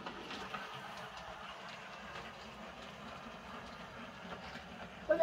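A Hornby model train runs along layout track, giving a faint, steady rumble and light clatter that continues without a break and ends in a brief louder bump.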